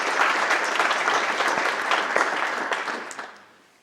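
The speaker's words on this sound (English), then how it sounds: "Could you just join me in a round of applause?" A university plenary session audience gives a round of applause, dense steady clapping from a large hall that holds fairly even and then fades out near the end.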